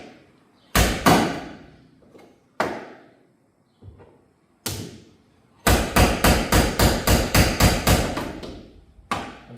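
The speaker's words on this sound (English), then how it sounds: "So that's just tapped on there. Enough for me to just work the dent out." A metal hammer strikes a car body panel to work out a dent, with isolated sharp blows followed by a quick rhythmic run of ringing taps, close and loud.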